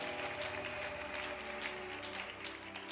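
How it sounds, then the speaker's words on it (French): Church congregation at a women's convention applauding and cheering, steady dense clapping with crowd noise filling the whole stretch at moderate loudness. "Est-ce que nous pouvons aussi les acclamer?"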